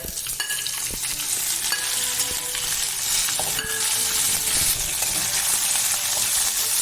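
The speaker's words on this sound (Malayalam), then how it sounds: "ഇതിനകത്ത് കറിവേപ്പില ഇടുന്നുണ്ട്." Curry leaves sizzle in a hot pan while chicken curry spices cook, a loud, steady, close hiss of frying oil with faint stirring clinks and no talking.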